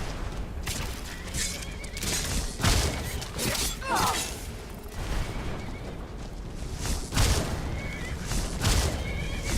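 Horse whinnies rise a few times over a busy video game mix in Skyrim, with thuds, clatter and combat noise filling the background at moderate loudness.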